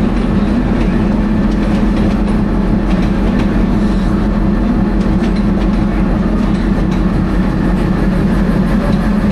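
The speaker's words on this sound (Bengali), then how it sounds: "চলে আসলো দোলন চাপা" The Dolonchapa train roars past at a rail crossing in a loud, continuous rumble with rhythmic clickety-clack of the wheels, close and sustained throughout.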